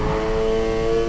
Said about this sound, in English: Slam on the gas and steer,